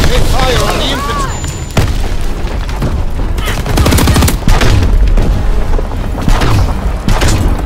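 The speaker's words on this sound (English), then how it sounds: "Their tank is pulling back! They fire on the infantry!" Heavy booms and scattered gunfire from Call of Duty WW2 multiplayer, a tank firing on infantry amid battle, with loud blasts recurring over several seconds and voices calling out underneath.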